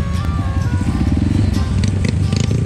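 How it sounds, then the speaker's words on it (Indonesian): Honda CRF trail motorcycle on a slippery trail, engine chugging in a close, uneven rhythm with crackles and rattles throughout. "Mamang bawa CRF yang biasa dia pakai"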